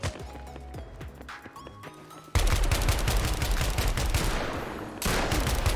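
Rapid gunfire from the WarFi first-person shooter video game fills the mix, with dense bursts of repeated shots, impacts and game effects running nearly continuously and loudly.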